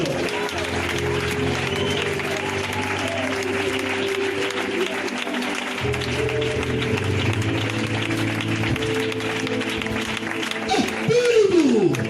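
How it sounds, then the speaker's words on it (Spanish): A congregation at an evangelical worship service in Alcañiz applauds strongly for the Lord, steady crowd clapping with shouting and voices mixed in, and music tones sounding underneath. "Fuerte aplauso para el Señor"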